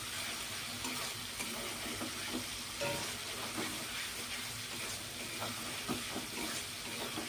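Chicken coated in turmeric frying in a pan, a steady broadband sizzle with light clinks and scrapes of stirring throughout, no voices.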